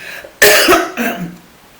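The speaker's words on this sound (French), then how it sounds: "Je tousse en ce moment." A single harsh, close cough bursting out loudly, followed by a softer second cough that trails off into quiet.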